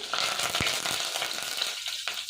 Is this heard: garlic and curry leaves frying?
yes